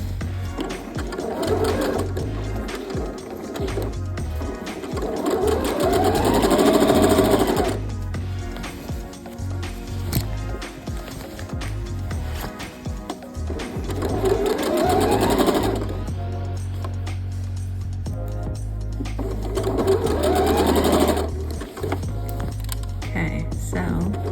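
A sewing machine stitches a denim dress in three long loud runs, its rapid motor whir rising and falling with brief pauses between passes, close by and without talk.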